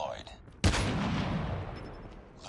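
A gun fires through a wall in a first-person shooter game, a sudden loud burst of rapid shots that cuts in sharply and then trails off over about two seconds. Faint background sound comes before it.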